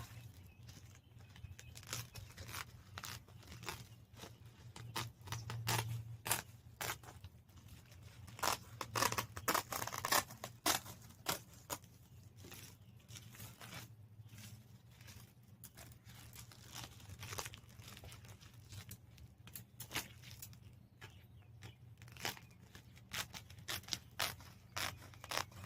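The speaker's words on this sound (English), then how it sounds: "I'm going to cut this in half." Scissors snip paper strips for seed snail planting, a series of short, close cuts scattered irregularly over quiet ambient hum, with some soft crinkling of the paper.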